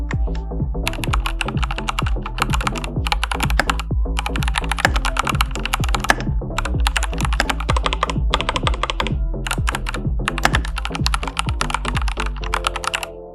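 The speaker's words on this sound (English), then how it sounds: "not a lot of wireless mechanical keyboards sound this good." Fast, steady typing on a wireless mechanical keyboard on a desk, with crisp close key clacks and thocks in quick bursts and short pauses, no voices.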